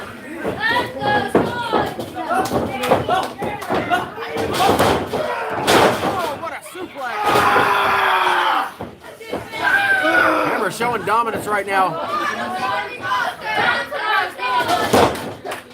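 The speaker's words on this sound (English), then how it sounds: "Nice vertical suplex" A wrestler is slammed to the mat with a vertical suplex at a live Supreme Wrestling show, a heavy thud landing amid loud crowd noise while commentators talk over the action.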